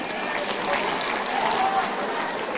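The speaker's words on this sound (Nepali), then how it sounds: "प्रदेशतिर पो बढी ताली आयो त हौ" A crowd at a Nepali Congress general committee meeting claps in a steady wash of applause, fairly loud and continuous, with a few voices faintly audible beneath it.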